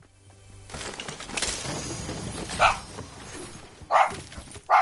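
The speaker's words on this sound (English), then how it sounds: "The dogs are excited about something." Excited pet dogs barking indoors, a few sharp, loud barks in short bursts with yips and whimpers between them over background game sounds.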